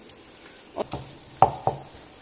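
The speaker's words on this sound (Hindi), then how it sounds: "अब मैं इसमें डालूंगी अदरक लहसुन का पेस्ट" Ginger garlic paste hits hot oil in a chicken karahi, giving a soft steady sizzle broken by several sharp spatter pops and clinks close by.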